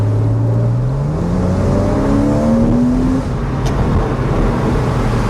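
A Porsche 911 997.2 engine revs while driving, its steady, throaty drone climbing in pitch through the gears. It is close, continuous and loud, with no talking.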